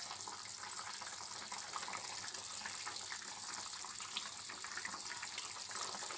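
Okra curry simmering in a pan, a steady soft hiss and bubbling that runs evenly and faintly throughout with no voices.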